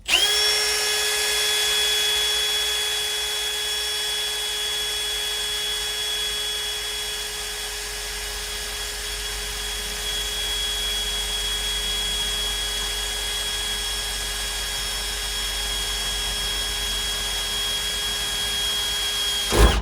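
Power drill with a dull bit whines steadily as it bores a hole in a 1968 Ford F100 truck. The motor holds an even, sustained pitch close up for the whole stretch, with no talk over it.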